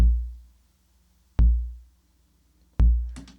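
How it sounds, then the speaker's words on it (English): Synthesized bass drum from a Wonky Stuff micro module in an AE Modular setup, three deep booming hits spaced evenly about 1.4 seconds apart, each decaying smoothly, played alone and loud. "So the bass drum sounds like this."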